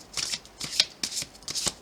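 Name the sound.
shuffling tarot cards for a reading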